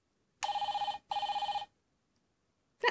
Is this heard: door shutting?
no